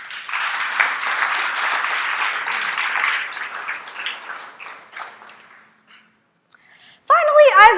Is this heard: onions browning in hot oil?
no